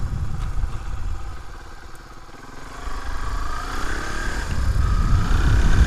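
A classic motorcycle engine thrums close by, its rhythmic idle dipping briefly before the revs climb steadily as the rider pulls away, growing louder and rougher toward the end.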